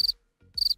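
Crickets from a prank noise gadget: two short bursts of high, rapid chirping separated by a brief pause, loud and close.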